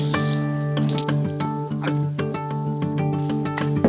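Water poured over a dry-poured concrete countertop to soak it, a steady close splashing and trickling with small irregular spatters throughout.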